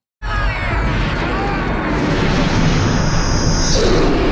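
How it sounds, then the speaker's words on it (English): Big explosion from the 1984 film Ghostbusters, a loud continuous roaring blast that fills the whole clip with dense rumble and crackle, rising slightly near the end. "Oh, that was a big explosion."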